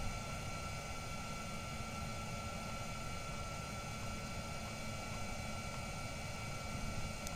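Aircraft in Kerbal Space Program coming in to land, a steady broadband engine and wind roar holding constant and fairly loud throughout, with no voices.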